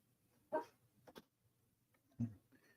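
A sleeping puppy makes a few faint, short whimpering yelps while dreaming, three soft bursts spaced apart in a quiet room.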